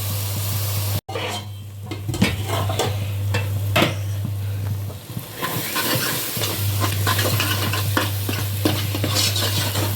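Tomatoes fry in a pan for avarai kulambu while they are stirred, a steady close sizzle broken by repeated scrapes and clinks of a spoon against the metal, with a constant low hum underneath.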